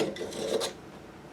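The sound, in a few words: deburring tool spun inside a pipe end to remove burrs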